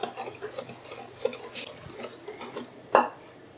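Milk gets stirred in a bowl with a utensil, making soft swirling scrapes and light clinks, then one sharp knock against the rim near the end.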